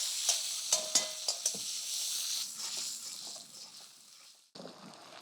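Ginger-chili paste and cumin hit hot mustard oil in a kadhai, a few sharp crackles up front, then a steady loud sizzle that cuts off abruptly and resumes, with no voices.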